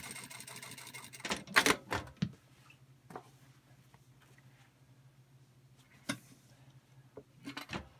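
A Singer industrial sewing machine stitching straps in a production setting, with short loud bursts of rapid mechanical stitching separated by quieter pauses, handling clicks and a low steady hum.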